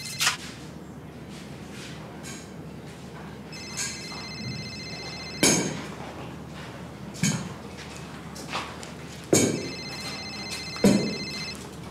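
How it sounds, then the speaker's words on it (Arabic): A telephone rings in a repeating pattern of bursts in an indoor domestic scene from an Egyptian TV drama, fairly close and clear, with soft household noise between the rings. "نمرة غريبة، تلاقي رامز واخد تليفون من حد عشان يطمن عليه. طب رد رد"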